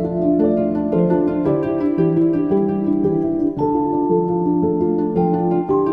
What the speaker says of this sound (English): And then I bring in Celeste over here, which adds a nice little shimmery sound.